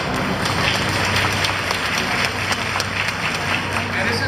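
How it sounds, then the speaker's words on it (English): An audience at the opening ceremony of a Taiwanese cultural festival in Toronto gives a councillor a round of applause: a loud, sustained patter of many hands with crowd murmur mixed in. "you should give him a bigger round of applause"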